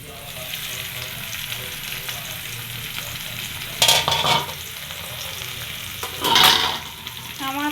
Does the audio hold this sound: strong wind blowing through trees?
no